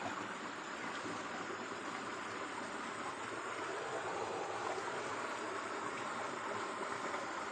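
A swollen stream after a flood rushes strongly in a remote spot, a steady broadband roar of flowing water that stays constant and fairly close throughout, with no voices.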